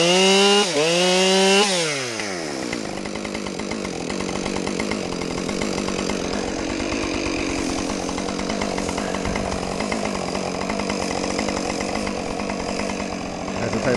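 A Husqvarna 550XP Mark 2 chainsaw cutting firewood outdoors, loud and close: it revs up sharply in a few bursts, then settles into a steady high-pitched cutting whine that holds for the rest of the clip.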